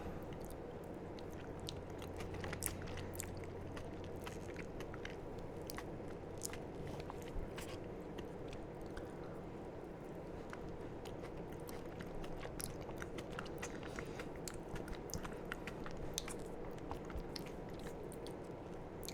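Close biting and chewing of cheesecake with a hard, crunchy back crust: soft, steady mastication with scattered small crackles and crunches throughout, quiet and intimate, no talk.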